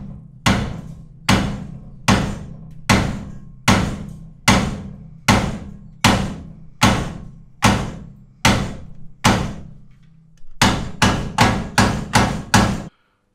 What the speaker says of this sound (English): a lump hammer or a gimpy hammer or a baby sledgehammer just to try and